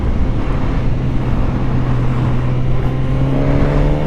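A 2024 Suzuki GSX-S1000 motorcycle, set to its lowest traction control and highest power mode, accelerates hard. Its engine note rises in pitch beneath heavy, loud wind rush.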